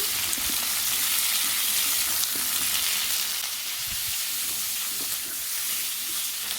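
Onions, potatoes and flat beans fry in hot oil with a dense, continuous sizzle and occasional soft stirring clatter, close and steady throughout.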